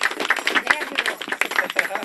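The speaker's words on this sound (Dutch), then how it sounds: "Applaus voor haar." Brief scattered clapping from a carnival audience in a Dutch local broadcast, several hands clapping unevenly and close by for a couple of seconds.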